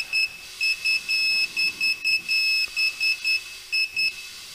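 A tire pressure monitor alarm beeps in a rapid run of short, high, evenly spaced electronic tones, about a dozen pulses, loud and close with nothing else behind it.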